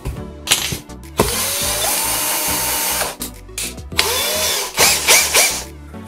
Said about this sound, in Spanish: Esos agujeros los voy a hacer con una broca del número 10. 10 milímetros de diámetro.